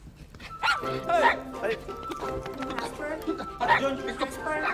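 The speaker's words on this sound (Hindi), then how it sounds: "बताया कि नहीं कि कुत्ता रखा हुआ है?" A dog barks and yips repeatedly indoors in a Hindi film scene, short excited bursts mixed with whimpers, close and clear while people talk over it.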